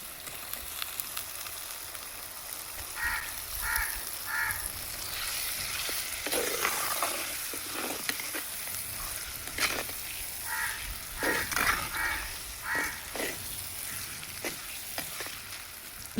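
Chicken or mutton frying with chili powder in a pan for a village-style curry, a continuous crackling sizzle with scraping stirs, and distant crow caws in short bursts behind it.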